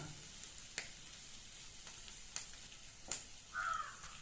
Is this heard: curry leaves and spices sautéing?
yes